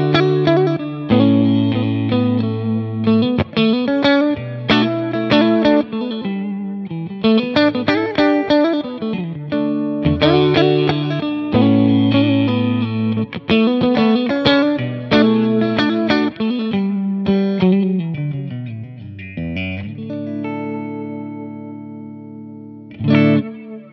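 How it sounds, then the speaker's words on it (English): Electric guitar played through an affordable flanger and reverb combined pedal, chords and single notes ringing with a swirling, wobbling wet tail, loud and close with no talking. "is a flanger and a reverb mixed together. It gives an effect on your wet sound"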